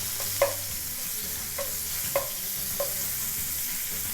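Food sizzles steadily in a hot skillet while a utensil stirs it, giving a few light scraping knocks at irregular intervals.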